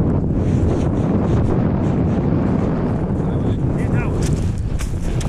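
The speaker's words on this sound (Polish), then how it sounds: "Wieje wiatrem." Strong wind roaring across a cold mountain summit at Carnedd Llewelyn in Wales, a continuous heavy buffeting rumble battering the microphone, with faint voices and small sounds barely poking through.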